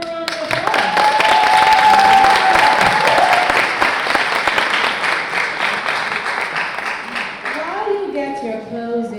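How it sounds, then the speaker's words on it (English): A crowd at an Orange County mayoral candidate forum bursts into loud applause that peaks early and then thins, with a voice speaking through the clapping near the end. "Give them a round of applause."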